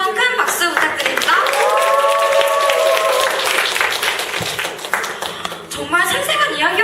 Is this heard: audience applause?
yes